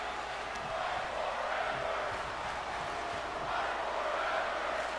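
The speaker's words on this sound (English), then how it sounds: "As the fight forever chants pursued throughout the crowd" Arena crowd in the WWE 2K24 wrestling game chanting "fight forever" in a steady, dense roar that swells and holds throughout, with no voices standing out.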